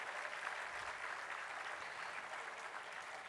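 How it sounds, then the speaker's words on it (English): A convocation ceremony audience applauds the chief guest with a continuous, even round of clapping from many hands, steady and moderately loud throughout without voices. "Let's give him a huge round of applause"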